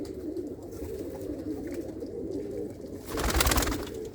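Racing pigeons in a loft cooing softly and repeatedly at close range, with a brief louder burst of flapping or rustle near the end.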